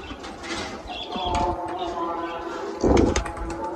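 Shirazi pigeons coo softly in a loft while their cages are being opened, under ongoing talk and some clattering handling noises.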